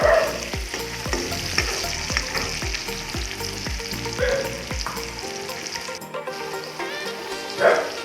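Onions frying in salted oil in a home kitchen pan, a steady close sizzle with repeated stirring scrapes in a regular rhythm, fading to quieter hiss near the end.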